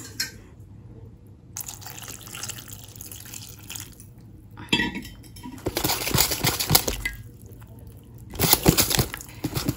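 Water pours from a tap into a pot of curd in a home kitchen, arriving in several splashing bursts separated by quieter gaps, close and fairly loud.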